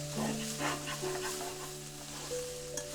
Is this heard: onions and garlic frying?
yes